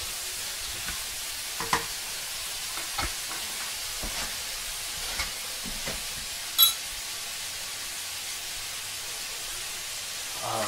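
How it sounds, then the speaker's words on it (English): Sliced cremini mushrooms sauté in a pan for a Thai-style stir fry, giving a steady, soft sizzling hiss throughout with a few faint clicks of stirring, and no talking. "Now, while all that's sauteing"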